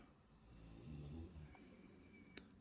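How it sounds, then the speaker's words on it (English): A small dog snores in its bed at the far end of a quiet room, a faint low rumbling breath that rises and falls slowly, heard alone and at a distance. "I'm sorry about the snoring in the background"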